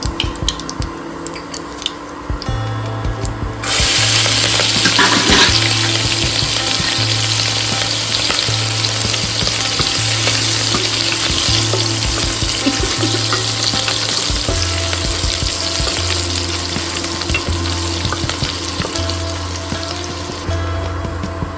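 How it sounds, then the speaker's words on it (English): Chopped green chilies crackle and sizzle in hot oil with cumin seeds, with steady loud frying and intermittent scraping stirs of a spatula against the pan, no voices. "add chopped green chilies to it"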